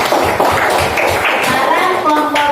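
Students in a classroom clap their hands together for a group presentation, a dense, steady patter that runs throughout under a voice speaking.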